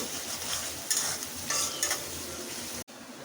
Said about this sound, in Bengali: পেঁয়াজগুলো তেলের মধ্যে ভেজে নিচ্ছি